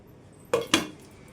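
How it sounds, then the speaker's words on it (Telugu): Two quick metallic clinks close up as a lid is set onto a pot of tomato chutney, the second slightly louder, in an otherwise quiet kitchen. "చూడండి ఈ విధంగా ఇప్పుడు ఇదైతే మూత పెట్టేసుకుందాం"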